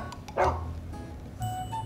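A dog gives a couple of short, close barks, one strong and a softer one later, in a quiet indoor setting.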